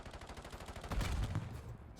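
Rapid gunshots in a competitive video game match rattle off in a fast, steady stream of evenly spaced cracks, swelling into a heavier burst midway before easing off.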